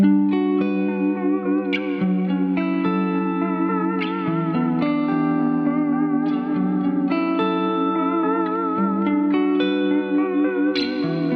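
An instrument run through a Line 6 DL4 delay pedal gives sustained, layered tones with repeating echoes and a wavering modulated shimmer, steady and full throughout with no talking.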